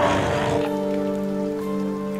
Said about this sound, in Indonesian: Hujan pula teman.